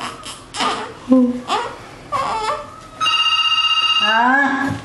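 A telephone rings with a steady pulsing electronic trill near the end, after a stretch of voices talking and a baby fussing close by.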